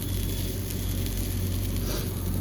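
Goat brain fry sizzles steadily in a pan, a dense, close crackle and hiss that continues without a break.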